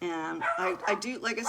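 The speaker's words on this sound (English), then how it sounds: "Sorry about the puppy barking. She's a puppy." A young female puppy, almost a year old, barks and yips in short bursts at close range, partly under a woman's speech.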